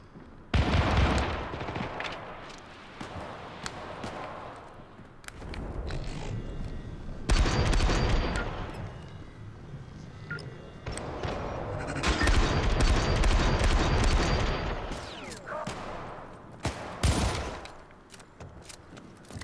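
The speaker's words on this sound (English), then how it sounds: "I'm getting shot from all freaking sides here" Gunfire in the video game Syndicate during a corporate war battle: dense, loud volleys of automatic fire and booms from several directions, continuing almost without pause.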